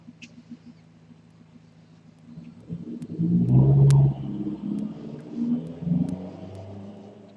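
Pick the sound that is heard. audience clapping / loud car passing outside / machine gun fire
loud car passing outside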